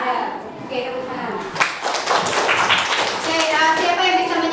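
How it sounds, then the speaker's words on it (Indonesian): A class of schoolchildren claps hands together in a classroom, the clapping starting a moment in and continuing as a busy patter of many hands, with a teacher's and children's voices heard over and before it. "Oke, tepuk tangan."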